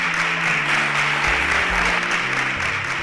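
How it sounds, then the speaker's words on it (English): An audience applauds steadily throughout, a dense, loud wash of clapping with no pauses. "A round of applause for them as they exit the stage."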